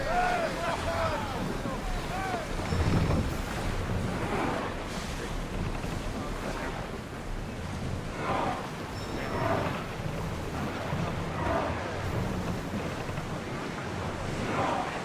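Sailing ship cutting across open sea in Assassin's Creed Odyssey, with steady washing waves, hull splash and wind rushing continuously, while crew voices call out over the water at moderate distance.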